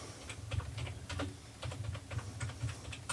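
Computer keyboard typing: a close, continuous patter of uneven key clicks, with small bursts and brief pauses, with nobody speaking.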